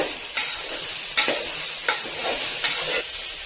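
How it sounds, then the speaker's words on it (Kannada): Tomatoes frying in a pan for a sambar with broad hissing sizzle, broken by four or five sharp stirring scrapes at roughly even intervals, close and steady, with no voices. "ಟೊಮೆಟೊ ಹಾಕೊಂಡು ಅದು ಸ್ವಲ್ಪ ಸಾಫ್ಟ್ ಆಗೋ ತನಕ ಫ್ರೈ ಮಾಡ್ಕೊಳ್ಳೋಣ"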